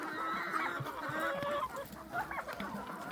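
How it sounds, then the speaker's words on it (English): Several chickens, young pullets let out into a farmyard to scratch around, cluck and chatter close by in a busy overlapping stream of short calls with no talk. "We let all the chickens out today to get exercise, dig around in the yard."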